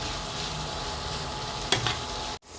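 Vegetables with chopped tomato stir-frying over high heat for shrimp fried rice, a dense continuous sizzle with one sharp spatula clatter near the end, close and steady, cutting off abruptly.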